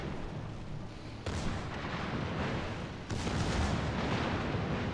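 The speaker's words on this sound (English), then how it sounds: "Just fire the same 14-inch guns against Nevada" 14-inch battleship guns firing in World of Warships: Legends, two heavy booming salvos about two seconds apart, each a sudden broadband blast over a constant rumbling battle din.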